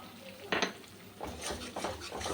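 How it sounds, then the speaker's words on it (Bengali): A spoon scrapes and stirs in a pan as sour yogurt is fried into a spice paste of cashew, melon seeds and poppy seeds, with a few clattering strokes over a faint sizzle. "এবার টক দইটা একটু কষিয়ে নিই"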